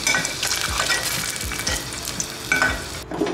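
Potatoes frying in hot oil for a home-style country chicken and potato curry, giving a steady loud sizzle with occasional stirring scrapes throughout, no voices.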